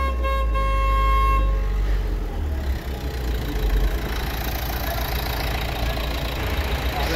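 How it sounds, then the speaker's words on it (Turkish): A loud, steady car horn blares for about two seconds over a running engine, then the engine keeps idling and rumbling alone. "En azından kornası çalıyor arkadaşlar."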